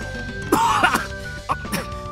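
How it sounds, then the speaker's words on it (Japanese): A video game character coughs and clears the throat: a sharp burst of coughs with a rasping throaty hack, then a couple of shorter coughs, close and clear over a faint steady tone. "本気の咳だな今のは。"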